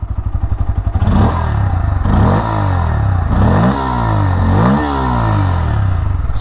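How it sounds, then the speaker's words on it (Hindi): A 2024 Bajaj Pulsar N160 motorcycle engine starts with a rapid chugging idle, then revs up and down several times, the deep exhaust note loud and close. "बाइक हम लोग करते हैं स्टार्ट एंड इसका जो एग्जॉस्ट नोट है वो आप सबको मैं सुनाता हूँ।"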